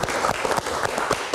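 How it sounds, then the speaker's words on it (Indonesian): Audience applause at a live Indonesian TV talk show, a short burst of dense clapping, fairly loud and close, with brief dips in intensity. "Tepuk tangan untuk tetangganya trio."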